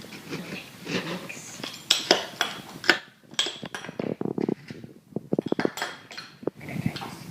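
A utensil stirs strawberry, pineapple, blueberry and vanilla together in a small lunch container. Close metallic clinks and scrapes come in quick irregular clusters, with a short run of rapid taps near the end.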